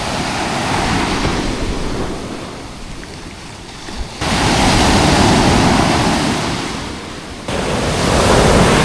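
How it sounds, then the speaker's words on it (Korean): Ocean surf rolls and breaks on Sokcho beach in Korea, a loud, continuous wash of waves surging in several swells, with wind buffeting across the whole stretch and no one talking. "이 파도 소리를 들으니까"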